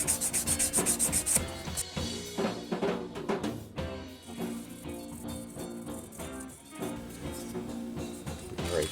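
Fine 1000-grit sandpaper rubs over the wooden body of a Fender Jazzmaster-style guitar, a close, raspy back-and-forth scratching in quick uneven strokes.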